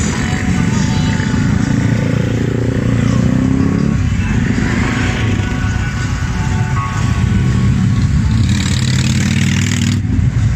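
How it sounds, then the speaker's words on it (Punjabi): A large motorcycle idles and creeps backward on a road during a motorcycle gathering, its engine a loud, close, steady rumble with slight revving that continues for the whole stretch. "ਇਹ ਬੈਕ ਕਰਨਾ ਚਾਹੁੰਦਾ ਜੇ, ਦੇਖੋ ਕਿੱਡਾ ਵੱਡਾ ਮੋਟਰਸਾਈਕਲ"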